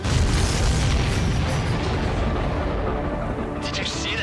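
A supply ship blows up in the jet-combat video game Ace Combat 7, a loud, rumbling blast that fills the whole stretch at steady strength, with voices talking over it.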